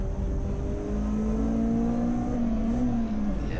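A touring car engine during a CSCC Tin Tops race at Snetterton, heard from inside the cockpit as a loud, steady drone whose pitch rises, wavers and dips with the gear changes.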